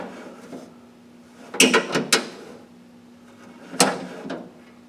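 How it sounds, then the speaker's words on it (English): Door of a 1970-81 Chevrolet Camaro opened by pulling the inside handle so the latch releases, giving a cluster of sharp mechanical clicks and clunks followed by a second brief latch sound, close by, with no talking. "you can see when I open the door how it pulls the latch"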